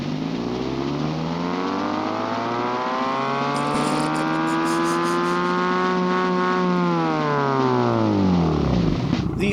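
Aston Martin fitted with a 10 hp four-cylinder engine in BeamNG.drive, revving steadily: a loud, close, buzzing engine note that climbs in pitch, holds, then falls away.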